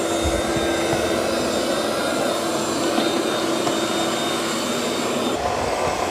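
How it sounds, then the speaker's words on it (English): A Eufy robot vacuum runs over carpet, giving a steady, close, loud motor whir with a constant high whine that holds evenly throughout without speech. "Now it's also going to vacuum this carpet"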